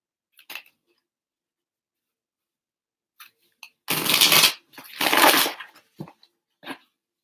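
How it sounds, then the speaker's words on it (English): Tarot cards being shuffled by hand: two loud riffling bursts in the middle, each about half a second, set among a few soft card taps and flicks in an otherwise quiet room. "One more shuffle."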